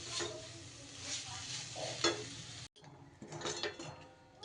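Milk powder being stirred into a pitha filling in a pan on a switched-off stove: continuous scraping stir with a soft sizzle underneath, a brief break partway, then more stirring, close and moderately quiet.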